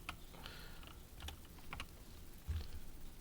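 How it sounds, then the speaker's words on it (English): Typing on a computer keyboard. A few quiet, uneven clusters of close key clicks sit over a faint room hiss, and no one speaks. "I'm just going to type it in."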